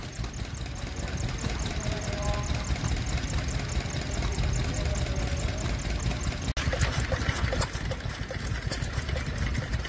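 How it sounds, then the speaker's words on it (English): An Osborne stationary gas engine running at a vintage rally, a steady rapid mechanical chuffing and clatter close by, even in rhythm throughout with a brief sharp knock partway through and outdoor ambience around it. "An Osborne gas engine."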